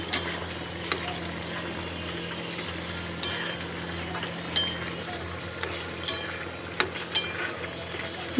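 Food being stirred in a cooking pot as the water cooks down, a steady low simmer with scattered scraping clinks of the spoon against the pot.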